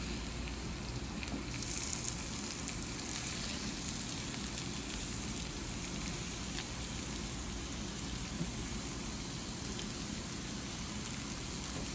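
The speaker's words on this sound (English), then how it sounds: "So now I'm gonna saute the hearts of palm." Hearts of palm sautéing in a pan, a steady quiet sizzle like light rain that runs unbroken throughout, with no voices.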